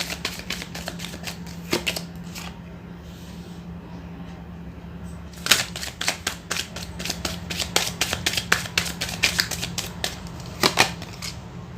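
Tarot cards being shuffled and drawn, heard as bursts of crisp riffling clicks that come in quick clusters, separated by a short pause, close and clear over a faint steady hum.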